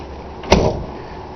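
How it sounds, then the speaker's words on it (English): A car door on a Ford Thunderbird swings shut with a single close, firm thump after a short approach, fading quickly into quiet. "Door closes easier too."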